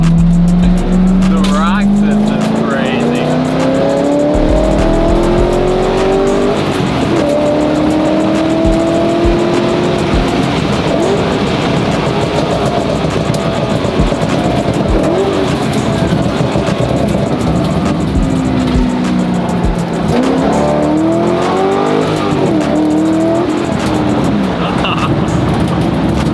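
Stock Lamborghini Huracan making hard pulls on a race track, its loud engine note climbing through the gears and dropping at shifts, with tire noise underneath and a voice talking over it.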